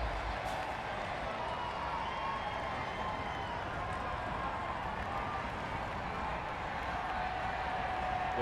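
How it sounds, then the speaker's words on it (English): Stadium crowd at a football match keeping up a steady, broad roar with faint cheering and clapping as a Mexican wave sweeps around, heard from a distance. "The crowd occupying themselves with a Mexican wave"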